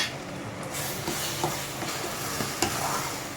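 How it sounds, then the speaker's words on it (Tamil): Masala powder is stirred into onion thokku in a hot pan, giving a steady broad sizzle with scattered soft scraping clicks and nobody speaking. "இதையும் சேர்த்து ஒரு கிளறு கிளறி விட்டுக்கலாம்"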